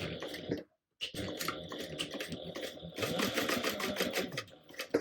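A sewing machine top-stitches a black tote bag seam, pressing the seam allowance down onto the bottom exterior panel; a steady close whir runs almost throughout, broken by one brief pause near the start.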